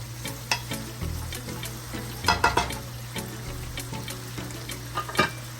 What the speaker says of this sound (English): So just keep mixing it up, stir it up.